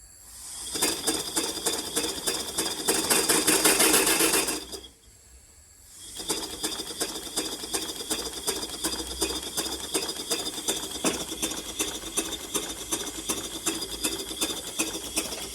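Model steam locomotive Britannia running on compressed air, a fast, steady mechanical chuffing and clicking that carries on loud and close, with a brief quiet pause before it picks up again.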